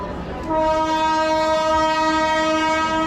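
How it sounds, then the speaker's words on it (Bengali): A train's horn blasts as it pulls out of Sheoraphuli Junction station, a sustained loud tone starting after a brief moment of ambient station noise and held steadily to the end. "শেওড়াফুলি থেকে আমাদের ট্রেন ছেড়ে দিল"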